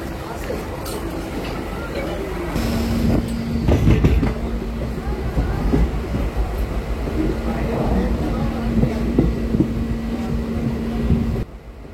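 A train pulls into Manubazar railway station, a low rumble and clatter of rolling stock with a sustained mechanical hum, heard from on board with voices talking over it.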